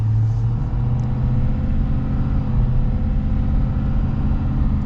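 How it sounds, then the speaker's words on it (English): Ford F-350 diesel pickup with off-road package, steady low engine rumble heard from inside while driving, continuous and moderately loud with no talk. "Gotta love that engine."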